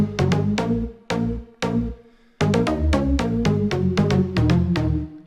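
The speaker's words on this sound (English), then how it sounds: "the final layer is like a high frequency sort of pan flute sound" A high, breathy pan-flute synth layer from an electronic track, playing a quick run of bright plucked-like notes, loud and alone, with short gaps between bursts.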